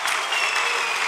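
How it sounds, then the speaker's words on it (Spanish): Congregation applauding at a Catholic renewal gathering in Salcajá, a dense, even burst of many hands clapping together, loud and close, with no talk over it. "¡Aplauso para Salcajá!"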